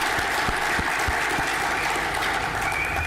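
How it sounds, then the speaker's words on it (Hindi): Enthusiastic applause at a corporate success celebration in Hyderabad, a continuous roar of clapping with a few louder claps standing out near the start, at steady volume with no voices. "इस साल के सक्सेस के लिए फिर एक बार आप सभी के लिए जोरदार तालियां।"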